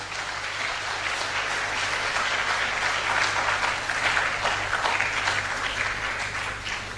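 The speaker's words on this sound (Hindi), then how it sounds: "तो मैं सभी से निवेदन करूंगा कि शहीदों की स्मृति में एक बार तालियां बजाकर स्वागत करें आप।" A crowd at a Rajasthan commemoration event claps together in memory of martyrs, producing dense, sustained applause that stays fairly even for several seconds with no talking over it.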